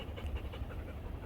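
Several dogs pant steadily and close by on a walk toward a small coastal lighthouse, a soft continuous breathy rhythm with no talking over it.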